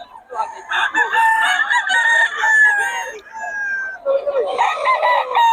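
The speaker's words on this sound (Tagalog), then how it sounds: "3K lang mga manok ni Boss Joselito." Several roosters crow loudly in overlapping calls, with clucking chickens close by and no talk over them, at a poultry seller in Bocaue.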